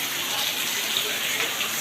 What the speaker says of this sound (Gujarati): જો આવી રીતે વરસાદ ચાલુ જ છે અત્યારે હાલમાં